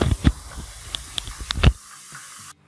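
Ginger and garlic sizzle in hot oil in a pan for chicken biryani, a steady close hiss broken by a few sharp pops and crackles before the frying noise cuts off abruptly.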